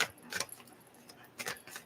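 Tarot cards shuffled by hand, giving soft, quiet riffling and rustling in two short bursts with a pause between, no voice.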